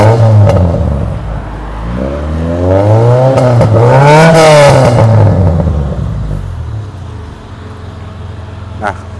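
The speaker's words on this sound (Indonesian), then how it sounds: "rata-rata kayak gitu sih suara knalpot hider ya" A car fitted with an aftermarket header exhaust revs at low RPM, the engine note climbing smoothly, peaking twice, then settling back to a loud close idle.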